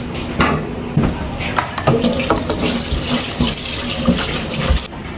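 Tap water runs in a kitchen sink while rice is rinsed, a steady splashing gush with occasional clinks and stirring noises close by.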